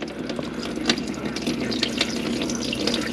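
Coolant drains from the radiator petcock of a 1991 Chevrolet Corvette ZR-1 with the LT5 engine, a steady close splashing trickle of fluid pouring that runs continuously with no talk.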